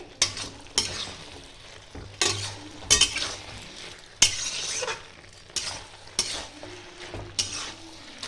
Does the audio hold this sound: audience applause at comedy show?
no